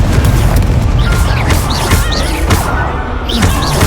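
Booming spell blasts from a Confringo fireball spell in the Hogwarts Legacy video game, several loud thuds and crashes repeating amid dense, continuous combat noise with a faint voice underneath.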